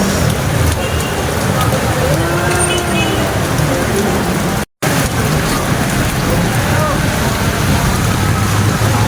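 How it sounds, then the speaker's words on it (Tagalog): Heavy rain pours down in a loud, constant hiss, broken only by a split-second dropout midway. "Lumakas na naman ang ulan"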